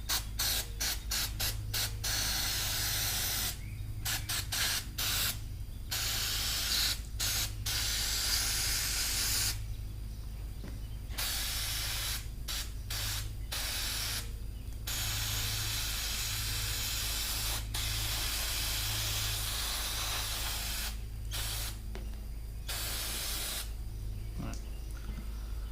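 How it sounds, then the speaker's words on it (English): An aerosol cleaner sprays onto a chipper winch motor in repeated hissing bursts of varied length, separated by short pauses, with a low steady hum underneath. "So when I spray it, I always spray"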